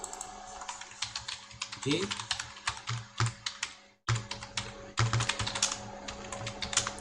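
Keys clatter rapidly and close by on a computer keyboard during Linux setup, with a steady run of strokes that stops briefly near the middle before resuming. A faint voice occasionally comes through.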